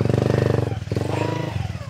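A bandit's battered, broken-down motorcycle engine chugs steadily up close in an idling rhythm, its low pulsing drone briefly dipping before carrying on under faint voices.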